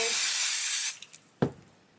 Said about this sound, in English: I'm going to go ahead and spray